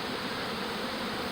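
A honey bee swarm in the open air, with queens mating, gives a steady, dense, continuous buzz that stays even and close throughout, with no voices.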